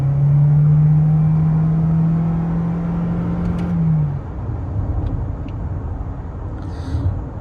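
A 2024 Toyota Corolla Cross Hybrid SE AWD hatchback under hard acceleration, with a loud, steady high engine drone rising gradually in pitch for about four seconds before dropping to a quieter road rumble and whir.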